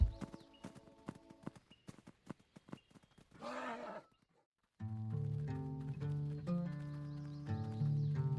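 Horses in a herd in the Roblox game Sonora clop with hooves in a rapid irregular patter, then one gives a neigh and the clopping stops; after a short silence, sustained synthesized music with a low drone swells.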